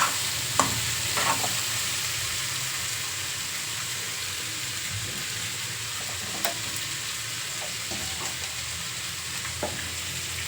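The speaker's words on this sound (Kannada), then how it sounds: "ಕಡಲೆಕಾಳು ಒಗ್ಗರಣೆ ಆಯ್ತು" Chickpeas are tempered in hot oil for a kaalu saaru curry. A steady, close sizzle and crackle runs throughout, broken by occasional clicks and scrapes from stirring.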